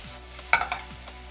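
Egg stir-fried with chicken thigh and soy sauce in a pan: a soft sizzle under a quick scrape of a utensil, with a couple of brief, sharp stirring clatters close by.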